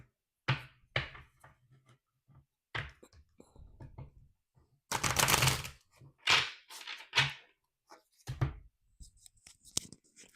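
Quiet rustling, flicking and tapping of tarot cards being shuffled, in short bursts with pauses, close up and fairly soft.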